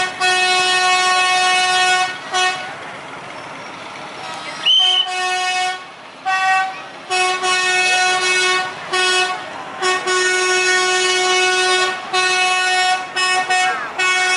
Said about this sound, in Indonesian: lokomotif mulai melewati perlintasan di dekat Pasar Semboro.